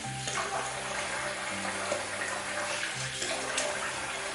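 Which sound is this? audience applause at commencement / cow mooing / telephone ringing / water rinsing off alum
water rinsing off alum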